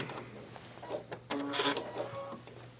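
Soft stitching of a sewing machine running along a pieced quilt border, quiet and uneven, with short bursts of mechanical whirring and small clicks and rattles.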